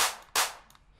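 Clap sample in FL Studio with a long tail: three sharp hits in quick succession, each trailing off in a lingering, hissy decay, the last one fainter, with no voices.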